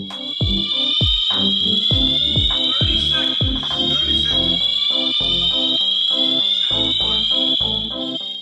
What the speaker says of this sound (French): En appuyant sur l'alarme à incendie d'un aéroport